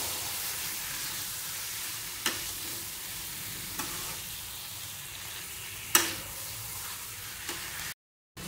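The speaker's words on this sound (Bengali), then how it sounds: "আলুগুলো একটু মশলার সাথে কষে নিতে হবে।" Potatoes fry with spices in a pan, a steady moderate sizzle running throughout, punctuated by several sharp spoon taps and scrapes against the pan, ending in a brief silence; no one speaks.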